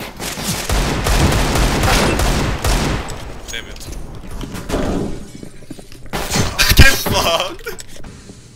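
Gunfire in Counter-Strike: Global Offensive, dense bursts of rapid shots and sharp cracks, loud and close, fading and then returning in a heavy burst, with voices speaking over the action.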